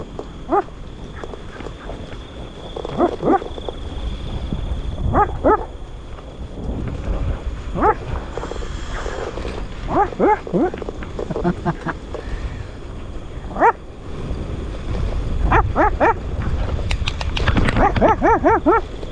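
Dogs bark in scattered bursts outdoors along Upper Seletar Reservoir Road over wind rumble, with people talking throughout and the barking growing busier toward the end.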